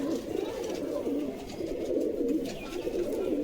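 Pairs of sporting pigeons offered for sale coo in low, rolling, continuous phrases close by, with several birds overlapping and no speech.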